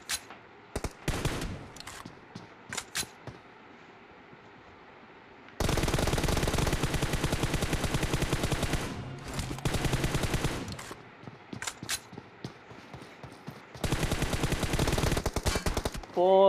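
Bursts of automatic gunfire from a first-person shooter match, loud rapid volleys in several separate stretches with brief gaps and scattered single shots between them.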